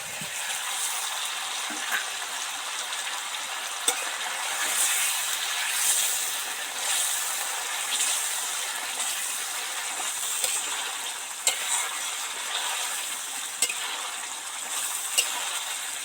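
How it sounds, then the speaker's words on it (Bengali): Oil and spices bubbling in a pan as a gravy fries before fried potatoes go in, a steady soft high sizzle with scattered small pops and faint clinks, moderately quiet and unbroken throughout. "মশলা থেকে তেল ছেড়ে গেছে তেলগুলো কেমন উপরে বুদবুদ বুদবুদ করছে"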